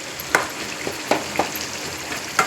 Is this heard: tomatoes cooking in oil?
yes